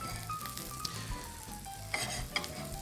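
Hamakua mushrooms sizzle steadily in a frying pan, a close, constant crackle with a few light scrapes of stirring.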